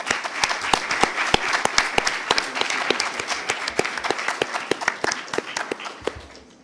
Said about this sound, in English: give Salvatore and Francesca and their team a big round of applause